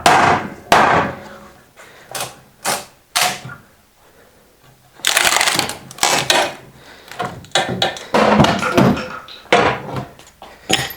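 Hammer strikes knocking a basket off an old $300 golf cart: loud, close metallic bangs in irregular bursts and rapid clusters, with brief quiet gaps between volleys.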